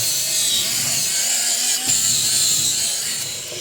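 A cheap electric cleaning brush runs against a dirty sink in a garage, making a steady, loud, close whirring buzz with a hissing scrub that barely changes over a few seconds. There is no talking.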